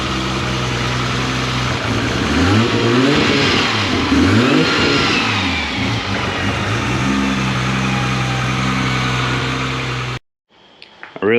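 A car engine revs through an ARTEC 4-inch titanium exhaust, loud and close, rising and falling in repeated throaty sweeps over a steady idle before cutting off abruptly near the end.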